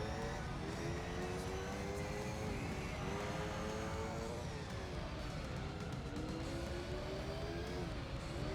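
A Mazda 787B race car in Gran Turismo 3 roars past with its engine note sweeping up and down through repeated shifts, loud and continuous over other racing engine noise, with no talking.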